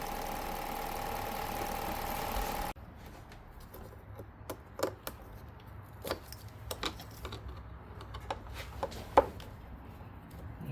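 A hand driver or ratchet works screws loose from the mass airflow sensor on a Ford/Lincoln MKX, giving a series of small clicking and ticking mechanical sounds, close and quiet, after a brief steady noise at the start.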